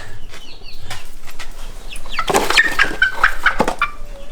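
Young chicks and hens clucking and chirping in a close, busy burst, with quick wing flaps in the second half over a steady background.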